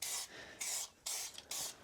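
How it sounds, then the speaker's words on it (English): Fluid Film rust inhibitor sprayed inside a bumper bracket on a 1980 Dodge W150 truck, in four short hissing bursts separated by brief pauses, close and fairly quiet. "Now I'm going to spray some fluid film."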